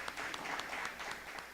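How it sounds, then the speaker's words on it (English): A small group claps briefly at a pyramid music meditation gathering, soft and somewhat distant. "Let's give a big round of applause to him."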